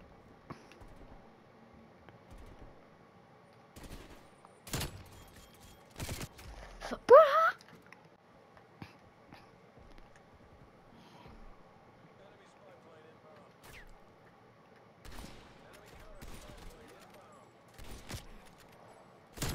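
Sniper rifle shots fire in a video game as sparse, single sharp cracks, several seconds apart and fairly quiet. A person talks on and off between the shots.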